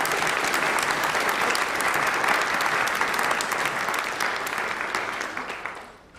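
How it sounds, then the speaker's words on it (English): Sustained applause from a conference audience at a rural-development project event, dense steady clapping filling the room and gradually tapering off at the end. "can we just have another round of applause for all of our villages that just presented to us?"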